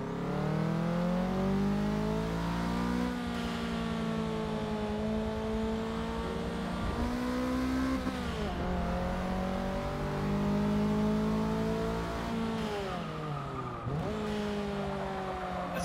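Racing cars in Forza Motorsport 6 with a Mitsubishi close behind, a loud engine droning steadily and rising and falling through gear changes, with occasional tire squeal under hard cornering.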